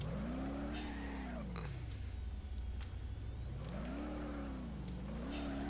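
An ETK K Series car in BeamNG.drive revs loudly, its engine pitch rising and falling in two broad sweeps over a constant drone, with tyre noise mixed in.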